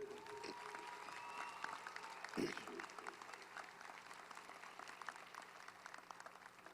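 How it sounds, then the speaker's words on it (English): Graduation audience applause at the Alma Bryant High School 2020 ceremony, a broad sustained patter of many hands clapping, with a brief louder thump midway and voices faintly underneath. "I think we owe Mr. Threadgill, his staff, the Mobile County Board of School Commissioners, everyone a round of applause"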